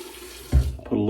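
Hot water running from a bathroom sink tap during a shave, a brief close splash that starts suddenly, dips and then resumes as a steady stream.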